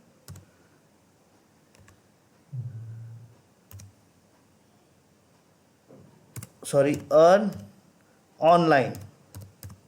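Typing on a computer keyboard, a few scattered key clicks and short taps spread through the clip, quiet and close, broken up by a voice speaking.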